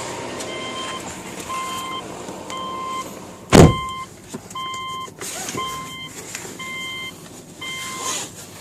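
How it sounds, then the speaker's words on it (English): Subaru engine running after a turbo replacement and catless up-pipe install, a steady low idle heard under a repeating electronic beeping pattern, with one sharp loud knock partway through. "Sounds like a Subaru engine"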